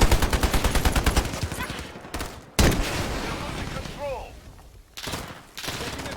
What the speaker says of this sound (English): This is actually a fairly high skill ceiling assault rifle due to the hyperburst feature.